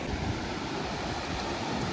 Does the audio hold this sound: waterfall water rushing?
yes